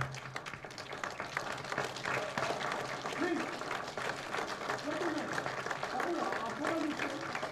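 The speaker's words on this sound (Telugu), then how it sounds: "please give a big round of applause" Scattered clapping from an audience at a short film launch event, fairly quiet and uneven, with people talking over it and some background chatter.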